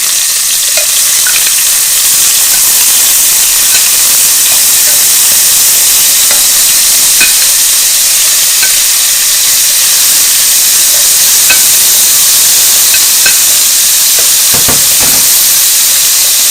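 Shrimp simmer in a honey garlic sauce in a pan over a lowered burner, giving a steady close sizzle and hiss with occasional light stirring clicks and pops throughout.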